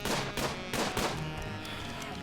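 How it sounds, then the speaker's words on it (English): Rapid bursts of gunfire from the colony sim game RimWorld, dense and overlapping, a loud crackling volley of shots with thumps continuing throughout. "Don't mind the gunshots,"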